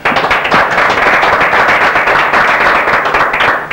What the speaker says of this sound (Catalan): Els donem, doncs, un fort aplaudiment per ell.